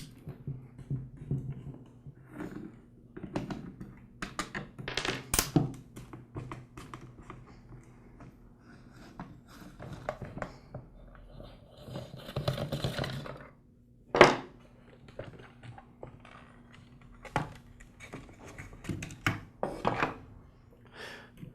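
Screws being removed from the plastic housing of a Ryobi 132R string trimmer, with scattered clicks, taps and scraping from a screwdriver and handled parts, irregular and close, with a few sharper knocks.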